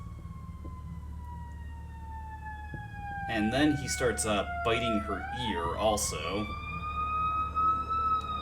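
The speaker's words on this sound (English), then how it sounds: "Sorry for the sirens." Wailing emergency vehicle sirens sweep and glide throughout, steady and fairly loud, with someone talking over them partway through.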